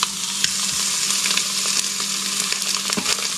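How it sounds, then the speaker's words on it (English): Italian sausage browning in a hot Instant Pot, a loud continuous close sizzle with occasional faint scrapes and pops, no talking. "I'm going to put in the Italian sausage."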